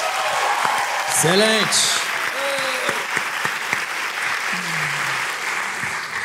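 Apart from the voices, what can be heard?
audience applause for a comedian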